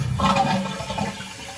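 A toilet flushes close by, a toilet that is slow to refill its tank through the fill valve. The water rushes in one steady, loud surge that lasts the whole short stretch.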